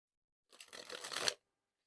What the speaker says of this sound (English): these new decks are just so much fun to like dribble and shuffle around because they're so nice and like stiff and clicky